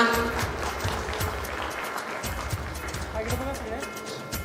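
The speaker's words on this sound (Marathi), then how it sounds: "जोरदार टाळ्या वाजवा." Audience clapping steadily at a school class-of-2000 reunion gathering, dense and continuous applause filling the room throughout, with voices in the crowd mixed in.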